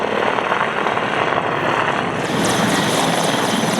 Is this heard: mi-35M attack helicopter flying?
yes